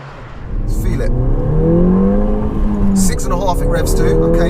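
A Ford Fiesta ST with a 1.6 engine revs hard under acceleration, its rising harmonic tone climbing steadily and staying loud and close throughout, with people talking over it.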